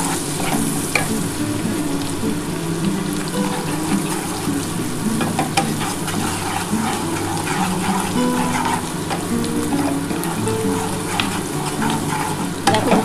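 Onions frying in a pan for a dhaba-style chicken bharta, a steady dense sizzle with frequent stirring scrapes running throughout, close and fairly loud, no talking.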